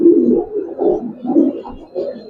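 A pair of Giribaz pigeons, a cock and a hen, cooing up close in soft, rhythmic, repeated low warbling phrases that rise and fall throughout.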